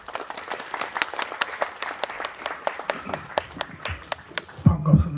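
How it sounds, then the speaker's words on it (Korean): Audience at a Korean writing contest event at a temple applauding a guest, steady moderately close clapping from a smallish crowd that fades near the end as a voice begins. "큰 박수로 모시겠습니다."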